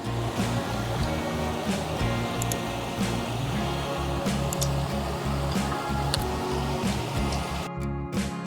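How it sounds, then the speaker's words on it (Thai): Steady broadband water rush of a stream flowing beside a tent campsite at Lam Takhong in Khao Yai National Park, continuous and fairly loud, with a brief dropout near the end. "ด้านขวาเป็นลำธารไหลมาอย่างเงี้ย"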